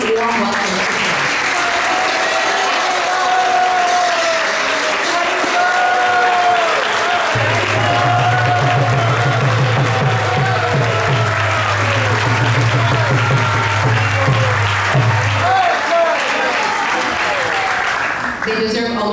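An audience claps steadily and loudly throughout a temple celebration honoring devotees at a swami's 72nd anniversary gathering. The applause is dense and sustained, with a low hum joining partway through.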